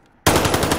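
Automatic gunfire from Call of Duty Vanguard erupts suddenly after a brief quiet, a loud, close, rapid burst of shots.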